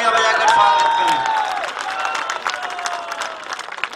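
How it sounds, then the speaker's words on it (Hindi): Crowd at a political gathering in Ramnagar applauds loudly to welcome young Purulia MP Jyotirmay Singh: dense, sustained clapping with cheering that fills the space, swelling early and then holding steady with a faint tonal hum beneath. "ज्योतिर्मय सिंह के लिए जरा जोरदार तालियां बजाकर स्वागत करें"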